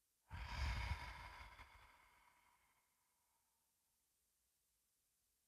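A single deep exhalation during a seated chair yoga routine, close and soft, a breathy rush that swells quickly and then tapers away slowly into near silence.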